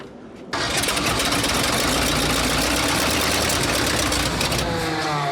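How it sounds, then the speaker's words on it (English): A Ford F350 dually engine, gravity-fed fuel straight into its carburetor, cranks and catches after a brief quiet moment, then runs loud and steady at a rough idle close to the microphone. "we're gonna gravity feed it to the carb and see if we can get it to run that way"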